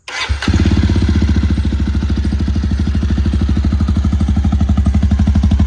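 A motorcycle engine cranks briefly, fires up, and settles into a loud, steady idle with a fast, even thumping pulse.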